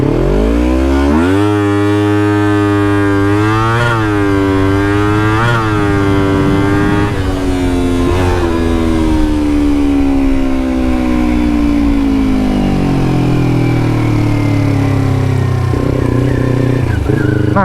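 A new Kawasaki Ninja 250 revs hard and climbs through the gears toward about 13,000 RPM, loud and close, its engine pitch rising, dropping at each shift, then climbing again over a continuous roar.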